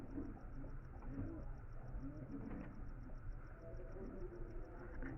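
Pigeons coo in a dense, steady murmur at a Sunday-morning pigeon market in Rajarhat in winter, with crowd chatter and low market bustle running throughout.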